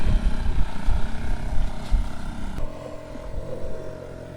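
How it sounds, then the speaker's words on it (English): A boat's outboard motor runs at sea after a hard start, giving a loud, rough, close engine drone that drops to a lower, steadier pitch partway through. "and mounted it back onto the outboard. After a long, bit of a hard start actually, we managed to get it going."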